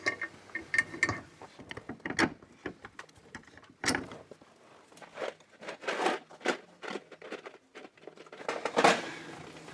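Bypass filter head being fitted to a 2000 Ford F-350, with repeated metallic clicks, ratchet ticks and tool clatter in irregular bursts, close by and fairly quiet, no talking.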